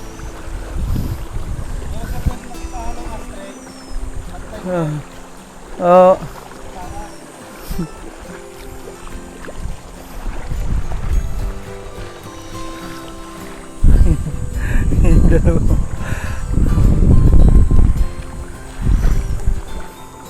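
A mountain river rushes past as people cross it on foot, with a steady wash of flowing water and wind buffeting the microphone, swelling louder near the end, while people talk intermittently over it.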